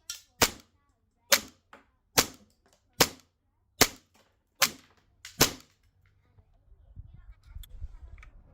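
A green gas Hi Capa airsoft pistol fires seven sharp, loud cracks, evenly spaced about once a second, each with a short decay, then gives way to low handling noise and faint background sound.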